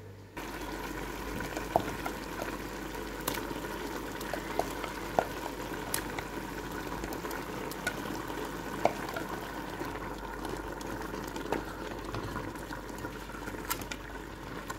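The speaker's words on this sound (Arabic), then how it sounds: "اللحم والبصله ملي دفناهم في اللون نخليهم يتقلاو مزيان مع العطريه" Meat and onion sizzle and fry in a pot with spices for couscous, a steady close hiss with faint crackles and small pops throughout, no talking.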